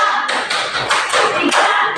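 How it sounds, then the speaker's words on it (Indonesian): A small group clapping hands in a quick rhythmic clap game at a school session, about eight sharp claps in two seconds with soft thumps between them, close and fairly loud. "Tepuk tangan"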